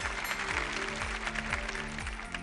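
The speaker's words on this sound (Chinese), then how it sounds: "现在我们掌声有请中国社科院考古研究所的吕鹏副研究员，请吕老师。" Studio audience applause on a Chinese television archaeology lecture show, a steady, dense clapping that fills the whole stretch with sustained tones running underneath.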